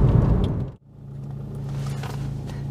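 A car coasting at zero throttle, a brief loud rumble that drops away, then a smooth, even road and engine drone carrying on steadily at low level.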